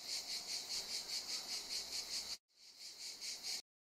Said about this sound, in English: So is cicadas.